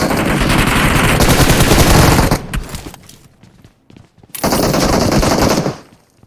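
Automatic gunfire in PUBG Mobile, a dense loud burst of rapid shots lasting a couple of seconds, a lull with scattered single shots, then another sustained burst that cuts off sharply.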